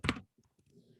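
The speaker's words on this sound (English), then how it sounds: "I can click, select all on my keyboard and delete." Computer keyboard keys pressed for a select-all and delete, a loud opening burst followed by a few faint, sparse clicks and soft taps close by.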